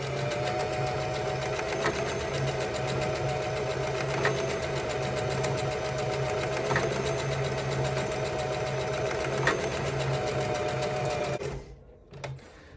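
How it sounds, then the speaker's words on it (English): A sewing machine runs a zigzag stitch on ribbon skirt pieces, a steady close whirring hum with a faint regular ticking that continues for about eleven seconds and then stops. "But now I have my two pieces together and I'm just gonna sew it"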